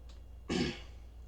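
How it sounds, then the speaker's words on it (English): A single throat clear from someone just getting over a cold: one short, raspy burst close to the mic, followed by quiet, with no talking. "if you hear me clear my throat a lot, it's because I just got over a cold"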